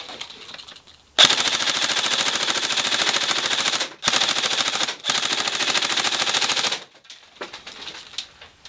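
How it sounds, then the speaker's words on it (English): An ICS Transform4 airsoft rifle fires full auto in three long rapid bursts, a dense mechanical rattle with short pauses between them, loud and close with no talk. "And so let's switch to full auto, of course."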